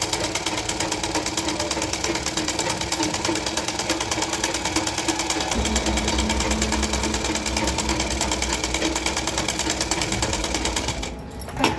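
Sewing machine stitching blouse lining in a steady, continuous run for nearly twelve seconds, the motor tone deepening slightly about halfway through; close and loud, alone without talk.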